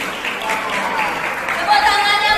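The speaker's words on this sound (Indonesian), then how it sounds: "Tepuk tangannya mana?" Audience applause breaks out at a Taijiquan seminar in Indonesia, a brief burst of dense clapping filling the room, with a voice talking over it.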